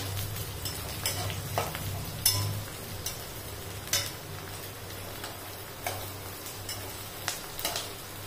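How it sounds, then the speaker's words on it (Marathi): Green chillies for Solapuri mirchu sautéing in a pan, a soft steady sizzle with a low hum and scattered clinks and scrapes of stirring, quiet and close. "थोडा असं त्याला पांढरटपणा आला पाहिजे असं परतवून घ्यायचं आपल्याला या मिरच्या"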